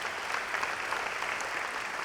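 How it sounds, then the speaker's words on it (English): Commencement audience applauding ROTC members at a graduate ceremony, a continuous moderate wash of clapping heard from a distance in a large hall. "But give them a round of applause wherever they are."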